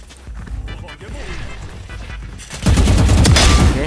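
Gunfire in the mobile shooter Valorant Mobile, scattered shots at first, then a loud sustained spray of rapid automatic fire in the final second, with someone talking over the early part.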